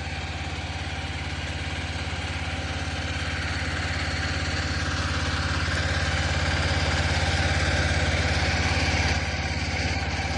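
A flour puffing machine making puffed snacks runs on a test, giving a loud, steady mechanical drone with a constant low hum that holds unbroken from start to finish.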